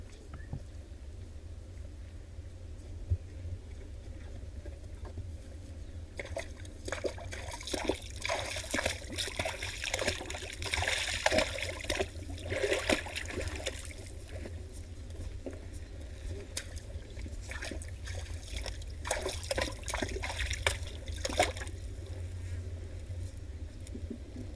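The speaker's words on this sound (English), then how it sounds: "we can definitely hear someone splishing and splashing. It's of course the zebras." Zebras splash in a waterhole, sending irregular sloshing and trickling bursts that swell in the middle of a long, steady outdoor stretch of ambience.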